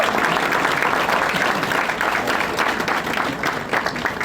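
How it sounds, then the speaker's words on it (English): Sustained applause from an audience at a city inaugural ball celebrating a newly elected council member, dense steady clapping filling the room with no break. "Can we give him another round of applause for that?"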